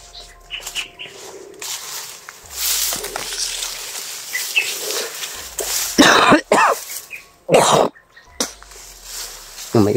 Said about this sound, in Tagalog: May ubo pa pala ako